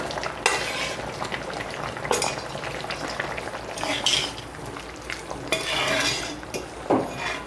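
Puthi fish dropped into a boiling sour curry of elephant apple in a pot, with stirring, bubbling and clinks of a utensil against the pan, close and fairly loud with no talking.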